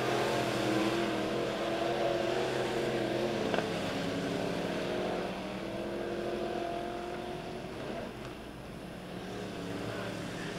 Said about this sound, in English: for the 15 of Trent Wynn in the final heat race here for the McHale Industries Midwest Mods